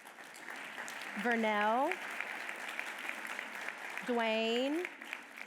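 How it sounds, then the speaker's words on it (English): A luncheon audience claps for guests standing as their names are called. Soft applause runs beneath a speaker who calls out names twice. "can y'all clap as they're standing?"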